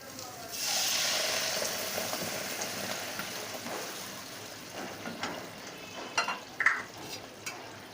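A pan of hilsa fish curry with potato, eggplant and whole cumin gives off a steady, close hiss and sizzle once water is added, with a few soft clinks and stirring knocks toward the end.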